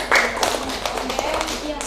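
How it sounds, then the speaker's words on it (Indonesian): A classroom group of students claps for a presenting group, scattered hand claps running under a teacher's nearby voice. "Tepuk tangan buat kelompoknya"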